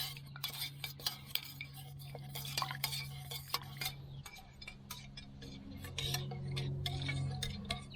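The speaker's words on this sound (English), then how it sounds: "Stir that up, start getting that mixed in good." Honey glaze mixture for an Easter ham being stirred outdoors at a campfire bushcraft smoker, a run of quick scraping, clinking strokes of a utensil against the bowl over a steady low hum.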